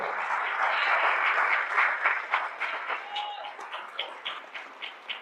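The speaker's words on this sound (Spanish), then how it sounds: "dile un aplauso al Señor ahora" A church congregation applauds together, a dense wash of clapping that gradually thins and fades into scattered individual claps.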